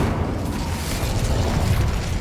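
A blazing burst from the Incendio fire spell in the Hogwarts Legacy video game, a steady whooshing roar of flame lasting the whole moment at close, even loudness.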